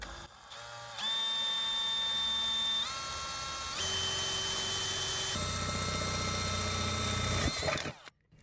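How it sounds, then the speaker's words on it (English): A power drill whines at a steady high pitch that shifts as the bit bites in, drilling a small pilot hole during an RV air conditioner install, running for several seconds before stopping abruptly. "I'm just going to drill a little pilot hole here"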